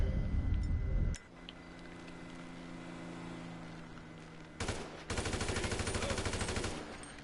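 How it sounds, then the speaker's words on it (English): Sniper rifle shots in a video game, a burst of loud sharp cracks at the start, then a quieter stretch and a rapid run of close, heavy gunfire toward the end. "I gotta get my sniper out"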